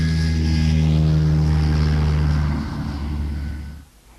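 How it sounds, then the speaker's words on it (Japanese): A propeller airplane drones loudly overhead with a steady engine hum that holds, then fades and cuts away at the end. "あれは飛行機です。"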